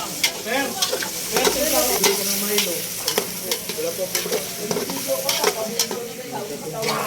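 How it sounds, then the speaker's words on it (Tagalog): Ingredients sauté in a pan with a loud, close sizzle and busy stirring, as a spatula scrapes and clacks repeatedly against the pan in an uneven rhythm. "nagigisa na siya"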